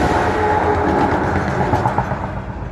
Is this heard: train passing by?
yes